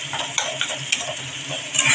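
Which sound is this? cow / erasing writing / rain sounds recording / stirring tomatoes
stirring tomatoes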